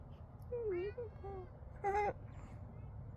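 A cat lets out two short, plaintive meows, the second higher and sharper, fairly faint over a low background hum.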